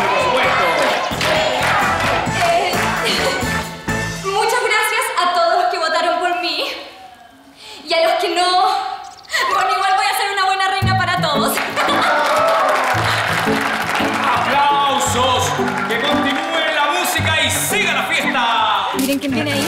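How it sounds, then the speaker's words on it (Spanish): Loud crowd cheering and applause as a winner is named and crowned at a village beauty pageant, with shouts and clapping swelling, briefly dropping away, then surging back under an excited announcer's voice. "¡Fuerte, fuerte el aplauso!"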